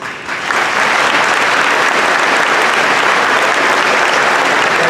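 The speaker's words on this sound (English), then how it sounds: "So let's give a big round of applause for our teachers." A large crowd at a high school graduation ceremony bursts into loud, dense applause for the teachers, rising quickly within the first half second and then holding as a full, even roar of clapping.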